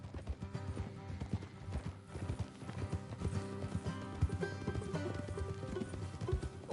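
Horse hooves clip-clop at a steady walking rhythm, fairly close, over a busy background of game music and ambient sound in Red Dead Redemption 2.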